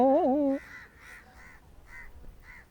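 Birds calling: a brief warbling tonal cry, then a steady series of harsh caws repeating roughly every half second, moderately close, with no talking.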